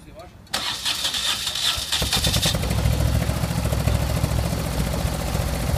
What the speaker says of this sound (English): Get some two of the boys' bikes going.